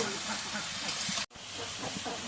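Spiced masala sizzles hot in a pan as singara pieces go in and are stirred, a dense, steady hiss broken by one brief pause midway before the frying picks up again.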